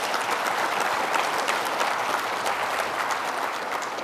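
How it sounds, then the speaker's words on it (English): A conference audience applauds the production team, a loud, sustained round of clapping that holds evenly throughout without any speech over it. "Jenny, Deborah, Greg Palmer, Aaron Hujar, let's give them an applause in advance for the good work that we know that they've done to get you here"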